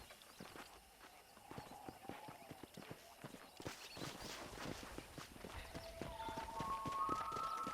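A horse in Red Dead Redemption walks up with rhythmic clip-clop hoofbeats, starting sparse and quiet, then growing louder and busier as it nears, with a short whinny-like tone near the end.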